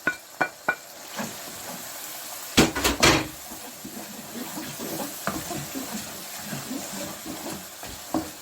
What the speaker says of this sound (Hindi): इसको अच्छी तरह भूनेंगे 4 से 5 मिनट।